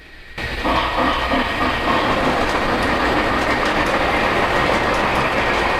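A Lionel Polar Express model passenger train, pulled by a Lion Chief Plus 2.0 locomotive, rumbles steadily along its track with a continuous clattering roll from start to finish, fairly close and with no talking.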